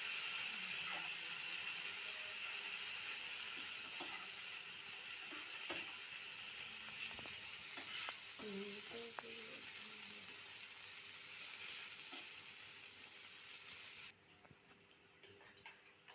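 Garlic and green chilli paste fries in oil in a pan for a Bengali bhetki fish curry, giving a soft, steady sizzle with faint clinks of stirring and brief quiet voices. The sizzle drops abruptly near the end.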